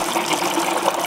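Water rushing and gushing steadily as an aquarium is drained for a water change, a continuous close, fairly loud flow with no talking.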